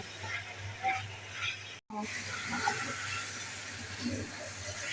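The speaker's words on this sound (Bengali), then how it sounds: "এখন এই যে ভেজে রাখা চিকেনগুলো দিয়ে দেবো নাড়াচাড়া দিয়ে ভালোভাবে কষিয়ে নেব" Pieces of already-fried chicken are stirred through cooked-down spices in a pan for a roast curry, giving a quiet, continuous sizzle with soft scraping and a brief gap partway through.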